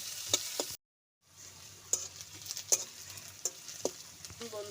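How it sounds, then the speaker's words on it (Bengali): Onions and green chillies frying in hot oil while being stirred, a steady low sizzle broken by sharp scrapes and clatters of the spoon, with a short silent gap early on. "কাঁচা লঙ্কা, পেঁয়াজ তেলের পরে এবার আমি ভালো করে ভেজে নেব।"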